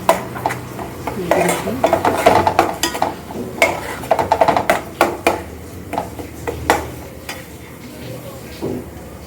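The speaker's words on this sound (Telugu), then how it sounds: "ఉల్లిపాయలు అయితే బాగా మగ్గనివ్వాలండి, చాలా బాగా మగ్గుతుంది." Onions cooking down in a pan for a fish curry while a metal spoon stirs them, producing rapid, irregular clatters and scrapes against the pan over a soft sizzle, close and loud throughout.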